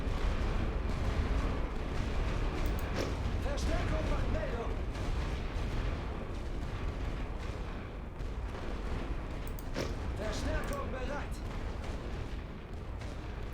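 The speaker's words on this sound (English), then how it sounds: "once all this artillery stops" Distant artillery fire rumbles continuously in the World War I trench strategy game The Great War: Western Front, a dense low booming bed with scattered sharper blasts, while someone talks over it throughout.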